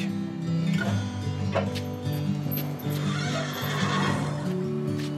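A racehorse whinnies loudly several times in a row, close by at a racing stable in Chantilly, with shrill descending neighs and some faint background clatter between calls.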